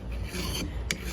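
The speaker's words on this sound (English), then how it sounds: "When I'm early on, I'll use this method of filing" A hand rasp filing and shaping a Native American ceremonial pipe, short close scraping strokes rubbing back and forth over the workpiece.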